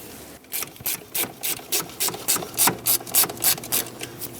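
A ratchet tightens bolts on a valve cover bracket of a 1999-2007 Ford F-350 with a 7.3L Powerstroke. About fifteen close, crisp clicking bursts come in an even back-and-forth rhythm, with no talk.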